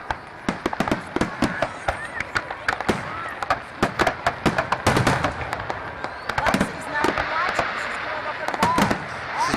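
Fireworks at a Bay City display in 2010, a dense run of sharp bursts and crackling reports in irregular quick succession, loud and fairly close, with voices talking underneath.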